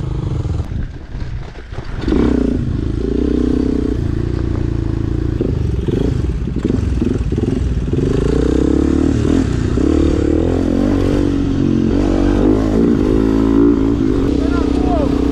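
A small motorbike engine drones steadily and loudly throughout, its pitch rising and falling as the rider accelerates, with wind and rattling noise.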